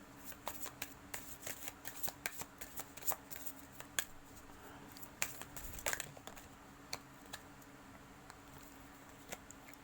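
Playing cards being handled and shuffled during a card reading, a quick irregular run of crisp riffling snaps and soft slaps up close, continuing throughout with no voices.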